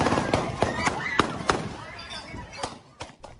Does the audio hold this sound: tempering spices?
no